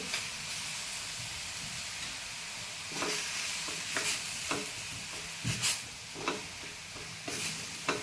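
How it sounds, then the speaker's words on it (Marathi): Vegetables for a momo filling stir-fry in a pan with soy sauce and black pepper, a steady hissing sizzle broken by occasional spatula scrapes and taps, close and without talk. "सगळ्या भाज्या 2 ते 3 मिनिट कुक करून घेऊ।"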